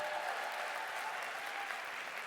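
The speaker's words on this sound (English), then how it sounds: "can we give another round of applause for David and for the humanitarian effort?" A round of applause from a marketing event audience, soft and fairly distant, steady clapping sustained for a couple of seconds without talk.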